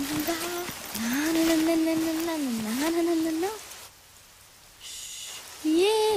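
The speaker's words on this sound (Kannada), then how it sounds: "ಮಳೆ ಮಳೆ" Steady rain falls in a broad hiss throughout, while a voice holds a sustained, wavering tone over it before dropping away and returning near the end.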